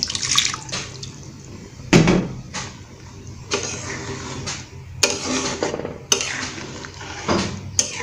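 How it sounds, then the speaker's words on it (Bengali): A cooking pot that held potatoes is rinsed and water poured, with running water under a series of sharp metallic clanks and knocks of pots and utensils, fairly close and loud. "আমি আলুর পাত্রটা একটু ধুয়ে পানি দিচ্ছি।"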